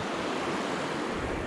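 A small river runs beside a hidden forest trail in New Caledonia, its flow a dense, even rush of water filling the air without pause.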